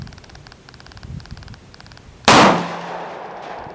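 A single loud, close .44 Magnum gunshot cracks out after a stretch of quiet rustling and a faint repeating tone, then leaves a long echoing tail as it decays.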